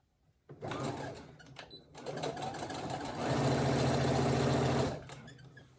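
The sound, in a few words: Brother SE1900 sewing machine top stitching a pouch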